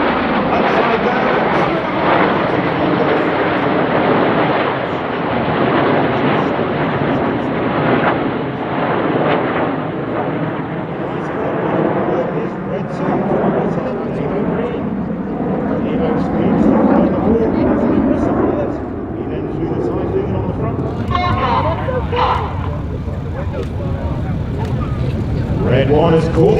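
RAF Red Arrows jets flying in formation at the Oregon International Airshow make a loud, sustained roar that swells and fades as they pass, and a commentator talks over it throughout.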